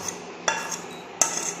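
Chicken kosha being transferred into a serving dish, with two sharp metallic clinks of a spoon against the vessel between quieter scraping and shuffling, close and clear, no talk.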